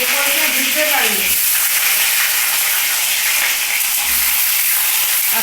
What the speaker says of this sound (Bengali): তেলের মধ্যে জল থাকলেই বুঝতে পারছো ভীষণ আওয়াজ হচ্ছে